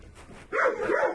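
A limping, trembling dog lets out a single short, close vocalization, a yelping bark that rises abruptly after a quiet moment and fades within a second.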